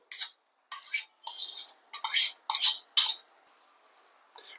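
Garden cress seeds being stirred into roasted coconut in a pan for ladoos, giving a run of short scraping, clinking strokes in a steady rhythm, close and clear, then a quiet pause and one more stroke.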